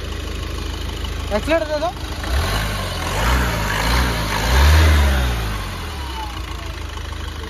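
A 2018 Ford EcoSport Titanium engine idles with a low hum, then revs up in a couple of rising, swelling pulls before settling back, while someone speaks briefly over it.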